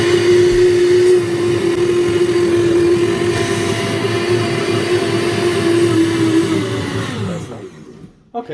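Blender whirring steadily as it purees strawberries, a loud continuous motor hum with a steady pitch that winds down and stops near the end.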